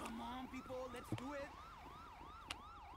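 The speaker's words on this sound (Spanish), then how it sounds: "Tenemos la ambulancia del cuerpo de Nueva York, del departamento de bomberos." New York fire department ambulance siren in the video game GTA V, a steady wailing sweep repeating about every half second, fairly close and loud, with brief voice-like tones and clicks mixed in early on.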